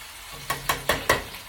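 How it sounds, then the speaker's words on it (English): Canned tomatoes dropping into a hot frying pan with garlic for a salmon and spinach dish: four quick sizzling splashes in a steady rhythm, close and clear, with no speech. "I'm gonna go ahead and drop my tomatoes in there."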